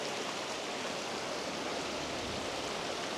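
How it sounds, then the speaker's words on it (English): Waterfall in Glenariff Forest Park, a constant broadband rush of falling water, even and unbroken, with no voices. "Big waterfalls up here, pet."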